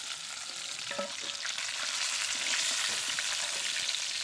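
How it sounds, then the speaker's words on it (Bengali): Bagar fish fries in hot oil, giving a dense, steady sizzle with sharp crackles and pops spattering throughout, close and moderately loud, with no voices. "মাছটা খুব ফাটছে"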